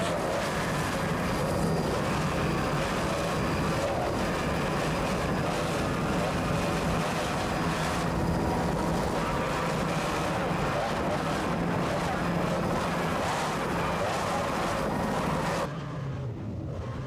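Mercury 2.5 EFI outboard engines drone on racing powerboats at the 1994 South Padre Powerboat Grand Prix, a loud, sustained roar with wind buffeting throughout, cutting off briefly at the end.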